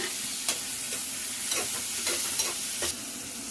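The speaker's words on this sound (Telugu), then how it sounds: "ఇప్పుడు ఒక స్పూన్ అల్లం తెల్లగడ్డ పేస్ట్ వేసేసుకుందాము" A spoon stirs tomatoes frying with ginger garlic paste for a country chicken curry, a loud steady sizzle with several scraping strokes against the pan, close up and without speech.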